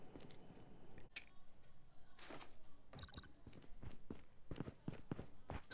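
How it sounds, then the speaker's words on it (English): In the mobile shooter Call of Duty Mobile, a series of light footsteps taps out an uneven rhythm, with a few thuds and clicks mixed in. The steps are fairly quiet and sit under the game's ambient sound. "I can hear some footsteps."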